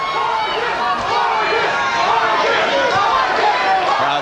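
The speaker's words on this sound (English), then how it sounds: "Crowd chanting Vargas" Boxing arena crowd at the Fernando Vargas versus Winky Wright fight, a loud dense roar of many voices chanting and shouting, continuous throughout, with a ringside commentator talking over it.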